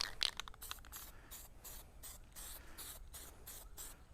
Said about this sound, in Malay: Habis kau kena spray ni, Kang.